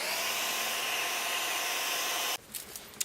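A hair dryer blows steadily at close range while drying glittered craft leaves, a loud continuous whoosh that cuts off abruptly near the end, followed by a few faint handling noises.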